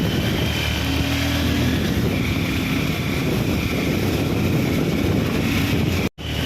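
Off-road motorbike ride on a trail toward the Parasnath Hill Jain temple in Jharkhand, with a steady, loud engine drone and heavy wind buffeting the microphone throughout, cutting out abruptly near the end.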